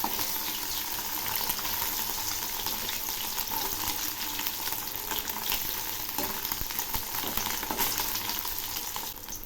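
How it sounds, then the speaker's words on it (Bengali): Fish fries in hot oil in a pan. The loud, dense sizzle crackles steadily and stays near for the whole stretch, with a few brief spikes as the pieces are moved. Nobody talks. "এবার আমি অল্প অল্প করে মাছগুলো ভেজে নিচ্ছি। এক পাশ ভাজা হয়ে গেছে, এবার আমি উল্টে দিচ্ছি।"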